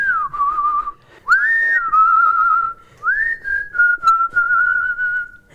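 A person whistles a clear, sliding tune alone, with several held notes and short breaks between phrases, close and fairly loud.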